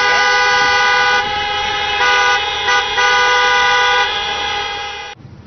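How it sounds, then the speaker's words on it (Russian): Car horns honking in a city street, a loud, steady chorus of sustained toots that blares on for several seconds before cutting off abruptly. "Давай, давай, бибикайте"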